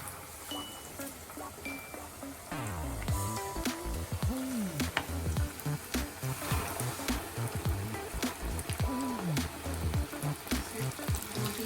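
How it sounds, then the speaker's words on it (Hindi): Chicken pieces dropped into hot oil for crispy fried chicken set up a steady, dense sizzle and spatter that runs throughout, with a melodic background underneath. "अब मैं डालने लगी हूँ इनको। ऑयल मेरा गर्म हो गया"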